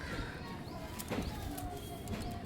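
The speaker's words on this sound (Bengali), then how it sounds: "এই যে একটা পায়রা" Soft, low cooing from a caged Kalshira pigeon, a female kept with its mate, heard faintly through a brief stretch against a quiet background hiss.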